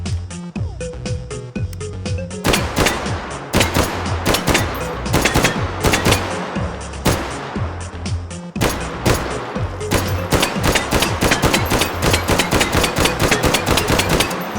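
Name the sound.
M2 carbine firing in H3VR video game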